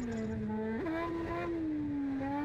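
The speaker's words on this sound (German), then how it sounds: "Wir haben mal einen neuen Motor eingebaut, man hört's." Race car fitted with a newly installed engine, heard as a steady droning engine note at moderate distance with a brief pitch rise partway through, running alone for a few seconds.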